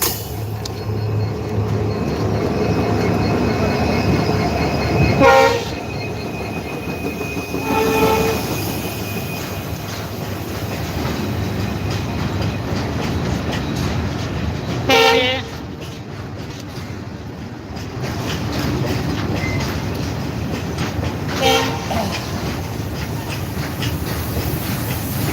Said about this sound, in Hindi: इस ट्रेन में बोल्डर आए हुए थे परसों के डेट में